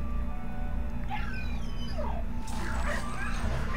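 A dog in Luigi's Mansion: Dark Moon whimpers and gives several high, sliding yips over a constant low background hum, fairly close and moderately loud, with no talk.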